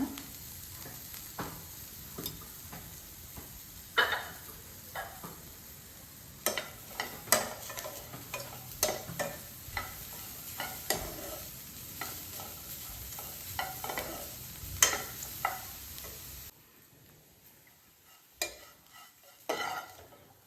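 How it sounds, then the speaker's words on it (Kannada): Bitter gourd pieces fry in oil in a pan, a continuous close sizzle punctuated by sharp spatula scrapes and taps, quieting near the end. "ಇನ್ನೊಂದು ಚೂರು ಫ್ರೈ ಆದರೆ ಹಾಗಲಕಾಯಿ ಫ್ರೈ ಆಗಿರುತ್ತೆ"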